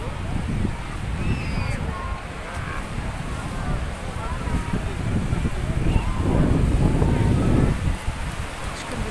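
Wind and sea waves roll in at a shallow beach in Kızkalesi, Mersin, as a low rushing surf that swells and ebbs, with a person talking over it.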